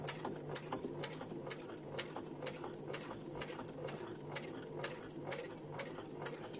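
A sewing machine stitching fabric trim runs steadily in a quiet room, its needle ticking in an even, rapid rhythm with faint mechanical whir underneath, close to the microphone and without talk.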